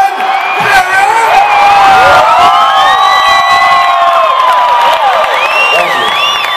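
A big concert crowd at a show in Quito cheers and whoops loudly and continuously, with high shouts and whistles riding over a dense roar throughout.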